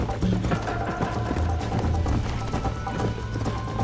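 A tiring horse gallops in a horse race in Red Dead Redemption on PC, its hooves making dense, continuous clip-clop, loud and close over a low musical drone.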